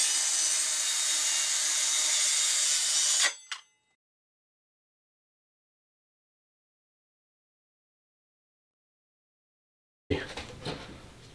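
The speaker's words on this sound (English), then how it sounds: "And now I'll just run the circular saw right across the workpiece." Circular saw crosscutting a clamped wooden workpiece, a loud steady whining roar for about three seconds that cuts off abruptly, followed by long silence and then brief close handling knocks.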